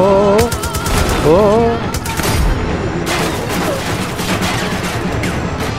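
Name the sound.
gunfire in video game Far Cry 5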